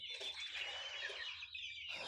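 Black chickens, hens and roosters in a coop chirp and cluck together in a busy, fairly close chorus, with no voices.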